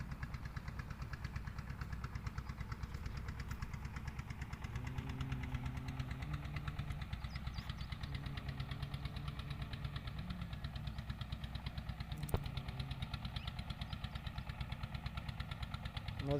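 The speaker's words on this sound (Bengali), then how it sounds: "নদীতে নৌকা যাচ্ছে" A river boat, a sand-carrying trawler on the Brahmaputra in the dry season, runs its engine with a steady low throbbing drone throughout, fairly distant and even in level, with no talking.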